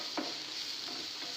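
Ingredients for egg biryani sautéing in a hot pan, a steady soft sizzle with a brief stirring scrape near the start, close and fairly quiet.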